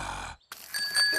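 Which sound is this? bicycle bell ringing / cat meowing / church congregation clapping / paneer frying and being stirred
bicycle bell ringing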